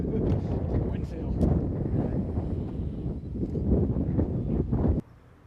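Strong wind buffets the microphone outdoors, a continuous low roaring gust that swells and dips for about five seconds before cutting off abruptly, with occasional faint voices.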